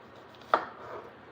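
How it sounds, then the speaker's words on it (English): A single sharp knife chop through small onions on a cutting board, one crisp close thunk amid quiet kitchen background. "I'm going to go ahead and get these onions cut."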